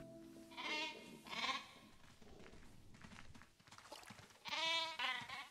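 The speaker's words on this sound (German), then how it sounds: "Und zwar sind hier Ziegen." Goats bleat in a farm enclosure in the zoo-building video game Planet Zoo, with several loud, wavering calls spaced apart, two early and another near the end, over quiet ambient game sound.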